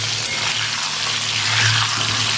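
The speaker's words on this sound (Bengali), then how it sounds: "ভালো করে আলুগুলো ভেজে নেব।" Potatoes with turmeric frying in hot oil, a steady close bubbling sizzle with a low hum underneath, continuous and unbroken.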